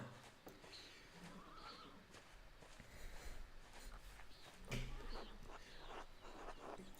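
Horses whinny and neigh repeatedly while hooves clip-clop steadily beneath them, a busy mix of animal calls and walking in the medieval adventure game Pentiment, with no speech.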